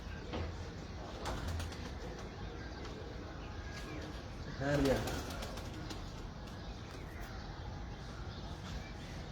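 Pigeons on a rooftop in Kasur give soft coos and brief wing flutters, with a louder flurry midway, while faint voices talk in the background.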